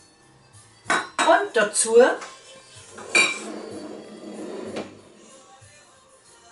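Speckknödel bacon dumplings are set onto plates in an alpine kitchen, with a quick run of close crockery and cutlery clinks, followed by a short spoken phrase and a softer clink.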